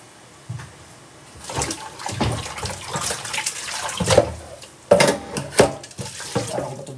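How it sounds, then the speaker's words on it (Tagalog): Running water from a tap splashing as something is rinsed, probably into a basin, with irregular bursts of gushing and sloshing and a few clinks, fairly close and loud. "Banlawan natin to."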